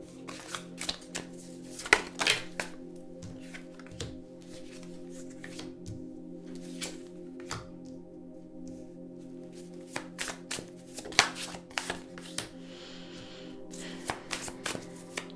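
A deck of tarot cards being shuffled by hand, a quiet run of crisp riffles and flicks in bursts with short pauses between them, no talking.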